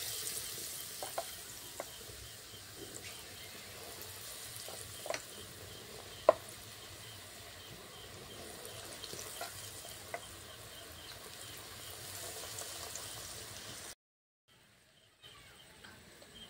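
Besan-coated onion chops fry in oil in a wok, a faint, even sizzle with occasional small pops that drops out near the end.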